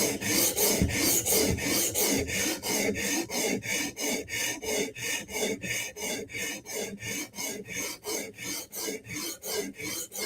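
A file rasps across steel in quick, even back-and-forth strokes, roughly three per second, close and loud, as a burr forms on the edge; no voices.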